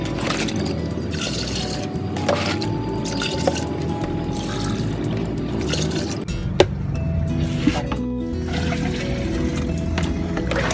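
Water running into a hydroponic nutrient tank, a steady close trickle and splash with dripping, its pitch shifting partway through as the level rises.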